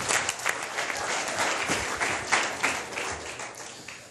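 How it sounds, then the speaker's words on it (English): A seminar audience at a marketing talk gives a short, lively round of applause, dense clapping with uneven swells that fades slightly toward the end. "Give her a round of applause."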